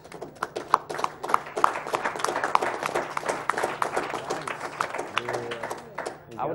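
Audience at an AGDQ speedrun charity event applauding, a dense crowd of clapping hands at moderate distance, sustained for several seconds with faint voices mixed in near the end.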